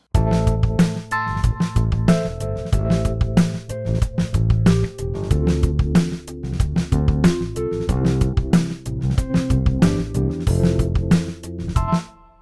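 Drum loop with a synth bass line and keyboard chords, all played through a Line 6 Helix, grooving steadily at full level for about twelve seconds, alone with no talking.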